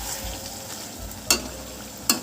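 Curd and brinjal curry sizzles gently in a pan on a stove that has just been turned off, a low continuous hiss broken by two sharp spatula scrapes against the metal.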